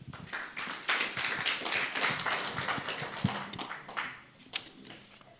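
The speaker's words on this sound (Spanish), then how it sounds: "vamos a recibir con un fuerte aplauso" A short burst of clapping from a small group at a church prayer service, scattered hand claps with a few sharper taps standing out, fading toward the end.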